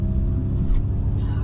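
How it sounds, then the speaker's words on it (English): A Ford Mustang Mach-E plays its artificial engine sound as it accelerates, a steady, rumbling synthetic drone heard from inside the cabin. "That engine noise is preposterous."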